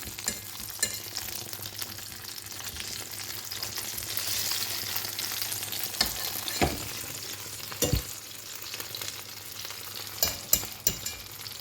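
Rabbit liver pieces frying in a pan, a steady close sizzle with a few sharp clicks and stirring knocks scattered through it, and no voices.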